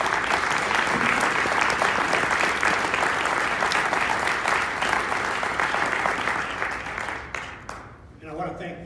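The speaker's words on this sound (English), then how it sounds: "Let's give them a round of applause" A crowd at a Kansas press association political forum breaks into loud, sustained applause that tapers off near the end, where a voice begins to speak.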